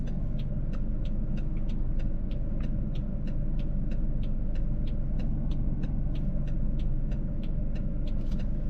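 A heavy truck rolls past on a road during a parking lesson, a steady loud low rumble of engine and tyres filling the whole stretch with a faint regular ticking above it.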